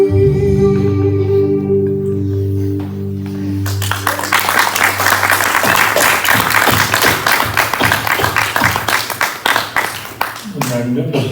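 A church audience at a Sunday celebration applauding as sustained music fades out, lively clapping from many people builds and continues for several seconds before thinning out at the end.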